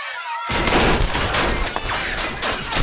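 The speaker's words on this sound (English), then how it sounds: "the most laugh out loud part was when they shot Token" Gunfire in a South Park cartoon episode, a loud burst of rapid overlapping shots that starts abruptly after a brief quiet moment and keeps rattling to the end.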